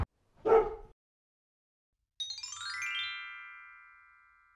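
A husky–shepherd mix dog gives one short, close bark in a quiet room. After a pause, a bright chiming tone rings out and slowly fades.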